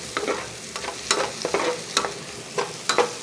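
Pancit bihon with chicken and sausage is stirred in a pan, giving rhythmic, repeated scrapes and taps of the utensil over a steady, fairly loud frying sizzle.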